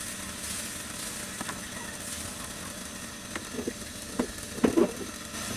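Rava dosa batter sprinkled onto a hot pan: a continuous close sizzle with crackling spurts as batter hits the surface, a few louder pops toward the end, no voices.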